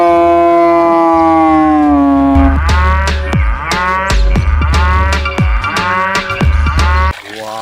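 A deep, drawn-out buffalo moo rises over a busy, tonal background, followed by repeated rhythmic lowing calls, loud and close.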